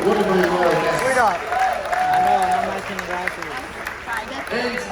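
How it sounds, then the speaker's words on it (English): Applause from a cruise ship audience aboard the Carnival Freedom during a sea day show, a dense steady clapping and cheering from the crowd beneath a host speaking loudly over it. "So give yourselves a round of applause."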